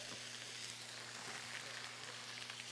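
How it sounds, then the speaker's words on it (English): Celery and carrots fry in a hot skillet for a stir fry, giving a dense, steady hiss of sizzling at close range with no talk over it. "I've got this skillet hot. I'm going to add my celery and my carrots to it."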